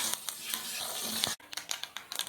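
Cumin, mustard seeds and chana dal frying in hot oil while being stirred, a loud close sizzle with rhythmic scraping strokes and a brief break partway through.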